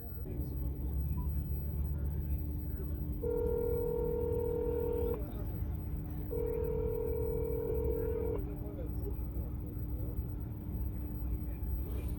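Telephone keypad tones sound during a call to the RCMP: two long steady dual tones, each about two seconds, heard over a low road-like background hum with no one speaking.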